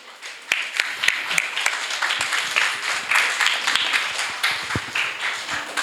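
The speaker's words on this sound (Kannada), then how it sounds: "ಮೇಡಮ್ಮನ್ನು ವೇದಿಕೆಗೆ ಕರೆತರಕ್ಕೆ ಇಷ್ಟು ಚಪ್ಪಾಳೆ" An audience applauds to welcome a singer onto the stage at a music school's concert, with steady, dense clapping that lasts throughout and stays loud and close.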